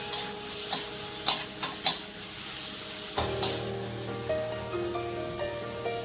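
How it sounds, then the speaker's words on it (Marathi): Finely chopped spinach stir-fried with tomato in a pan gives a soft continuous sizzle broken by several sharp clicks and scrapes of a spoon, then a faint steady hum; no one speaks. "आता यामध्ये बारीक चिरलेला पालक टाकून घ्यायचा आहे."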